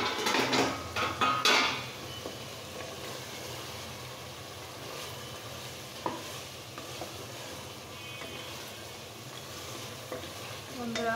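Beef biryani stirred and fried in a single pot, with metal utensil scrapes and clatter over a steady background sizzle, a few louder knocks near the start and occasional clinks later.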